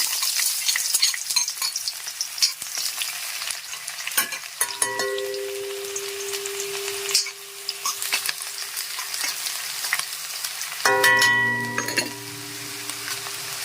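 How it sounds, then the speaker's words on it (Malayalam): Oil sizzles and crackles continuously as mustard seeds pop alongside frying shallots, with scattered clinks of a spoon stirring in the pan. "കടുക് പൊട്ടിക്കാൻ നമ്മൾ ചുവന്നുള്ളിയും ഇടുകയാണ്."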